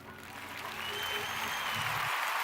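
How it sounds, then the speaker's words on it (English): Hand clapping applause from a small group at the start of a live trading stream, a steady wash of claps that swells slightly and holds for a couple of seconds with no voices. "Let's get a hand clap for the day"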